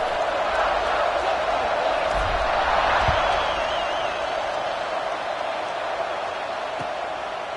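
Stadium crowd noise in a football video game before a kickoff, a broad, steady roar of many voices with a few thuds, sitting under continuous commentary.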